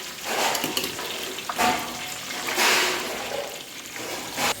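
Curry leaves frying in hot coconut oil for a fish fry koottu, a steady loud sizzle and crackle close up with surges of hissing spatter.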